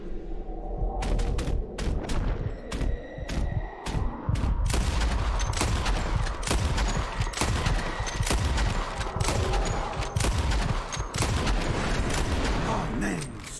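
Gunfire at birds flying overhead in Red Dead Redemption 2, a dense volley of loud sharp shots with mechanical clicks, cracking nonstop with game background sound underneath.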